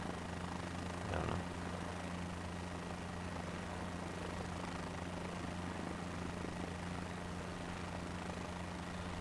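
Constant drone of a helicopter in Microsoft Flight Simulator 2024, a steady low rotor and engine hum holding level throughout with a brief thump near the start, no talk.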